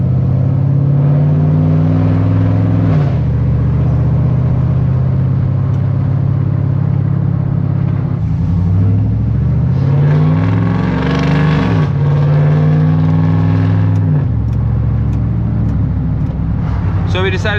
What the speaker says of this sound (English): So we decided to take this thing for a little ride.